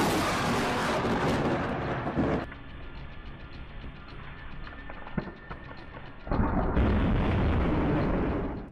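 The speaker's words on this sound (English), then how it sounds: "An unusual lightning storm erupted over Salem on August 1, 2014." Thunder from an unusual nighttime lightning storm over Salem booms loud and rumbling, quiets for several seconds, then roars back in another heavy crash.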